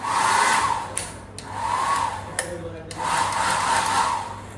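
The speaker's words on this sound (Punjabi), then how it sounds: "ਬਾਥਰੂਮਾਂ ਦੇ ਵਿੱਚ ਹੀ ਡਰਾਇਰ ਲੱਗੇ ਆ" An electric hand dryer in an airport bathroom blows in three loud, close bursts of rushing air separated by short dips, like hands moving in and out of the airflow.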